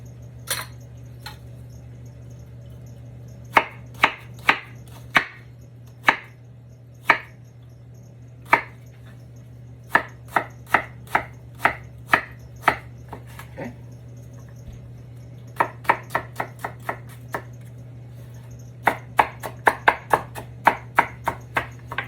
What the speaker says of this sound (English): when you chop your onion that way